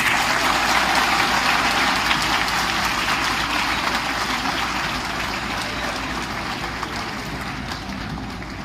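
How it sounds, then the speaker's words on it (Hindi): Sustained audience applause at a TechNext event at IIT BHU honouring an alumnus, a dense, loud, even roar of many hands clapping that fades slightly toward the end. "तालियां बजती रहनी चाहिए।"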